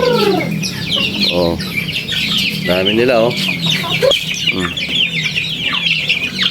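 Several native chickens, some Brahma crossbreeds, cluck and squawk close by in a busy farmyard at morning feeding, with overlapping calls and a brief voice speaking under them.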